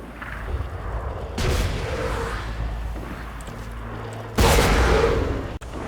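Dual shotguns fire akimbo in Borderlands 2 in the Tundra Express, with two heavy booming blasts several seconds apart, each followed by a long rumbling decay over continuous game ambience.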